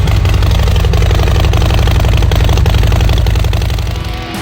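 Harley-Davidson 2024 Road King Special with a 131 Stage IV engine and Reinhardt Racing exhaust idling loud and close, a steady deep lumpy rumble that eases slightly at the very end.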